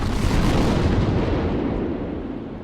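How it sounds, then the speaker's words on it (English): A salvo of cannons booms as a salute in 1789 revolutionary France: a loud, continuous rolling roar of overlapping blasts that holds steady for over two seconds and then slowly fades, with no talking. "a salvo of cannons salutes the Parisians' victory"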